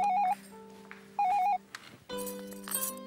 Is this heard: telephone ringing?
yes